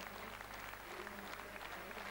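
A crowd at the 1993 Danish Derby trotting race applauds in tribute to a stable man. The clapping is faint and distant but steady throughout, with a low hum and faint voices underneath.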